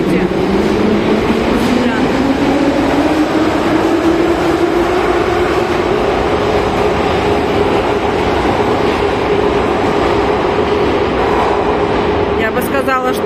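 A metro train at Avtovo station runs with a steady loud rumble and a rising electric motor whine as it pulls through, with a brief clatter near the end.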